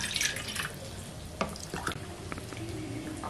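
Water is poured into a pot for making polao, heard as uneven splashes and trickles with a few sharper drips, close and fairly quiet, with no talking.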